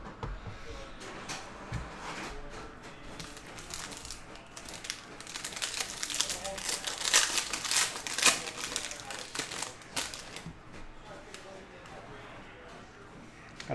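A Panini Capstone baseball card pack is torn open by hand, giving crinkly foil wrapper tearing and rustling that grows louder in the middle and then settles into softer handling noises, close up.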